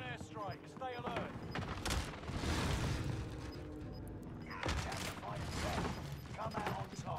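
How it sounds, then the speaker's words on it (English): Precision airstrike explosions boom and rumble in a Call of Duty Warzone match, a dense, sustained barrage of blasts with crashing impacts, overlapped by voices talking. "Enemy precision airstrike."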